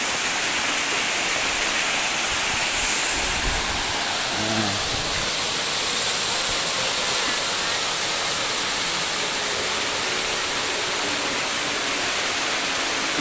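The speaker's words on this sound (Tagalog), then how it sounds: "ang ipapasilip ko sa inyo mga boss, tong falls dito sa Bagak, Bataan, napakaganda" Waterfall at Bagac, Bataan, a loud, constant rushing roar of falling water filling the whole scene, steady and close with no breaks and no talking.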